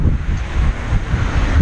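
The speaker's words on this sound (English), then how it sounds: "There's wind right now, so I guess I'll hear this back later." Strong wind buffets a small GoPro action camera microphone outdoors at a barbecue, a loud, steady low roar with gusty swells filling the whole stretch and no talk over it.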